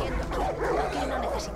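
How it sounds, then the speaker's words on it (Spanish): Pit bull dogs in the video game Far Cry 5 bark and yip in short bursts, mixed with game sounds and faint voices in the background. "Mira los perros, nen. Los pitbull, to locos."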